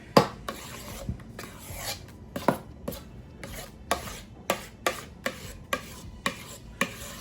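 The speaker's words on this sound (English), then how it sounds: "I'm just going to use a spoon and mix everything together." A spoon mixing pumpkin spice cheesecake batter in a bowl, a dozen or so evenly spaced scraping strokes, each ending in a light knock, close and fairly quiet with no talking.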